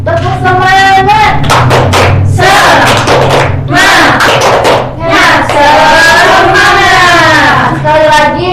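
An elementary school class performs the rhythmic 'tepuk semangat' spirit clap, loud chanting voices and patterned hand claps in bursts that fill the whole stretch, close and energetic.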